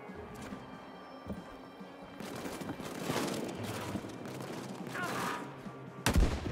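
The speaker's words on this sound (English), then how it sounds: "Put some rounds in the machine pistol." Machine pistol gunfire in the World War II game Land of War, set during the German invasion of Poland in 1939, crackles as a dense stretch of rapid shots in the mid-distance, ending in one sharp loud burst near the end.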